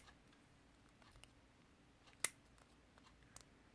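Close scissors give one sharp, crisp snip as they cut cured resin triangle beads, then a fainter click follows in an otherwise quiet room.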